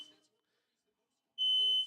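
A fire alarm gives a short, loud electronic tone that starts abruptly and holds steady for about half a second, following a brief fainter beep and near silence.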